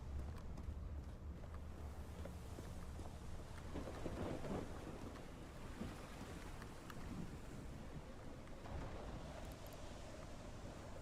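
Thunderstorm in the Call of the Sea video game: low rumbling thunder rolls swell and fade over a steady wash of rain and wind, fairly faint and continuous, with no talking.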